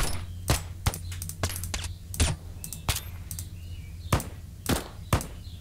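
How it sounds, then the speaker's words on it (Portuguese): Rifle fire from an M4 in a modded GTA San Andreas sound pack, sharp single shots spaced irregularly, about a dozen cracks over a low background hum. "Gostei desse, vamos ver M4."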